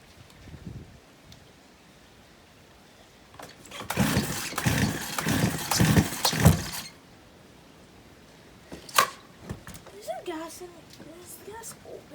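A Stihl 028 AV Super chainsaw that won't start sputters briefly in one rough, loud burst of a few seconds after quieter pull attempts, then dies away as people talk nearby.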